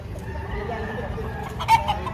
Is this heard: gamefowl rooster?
yes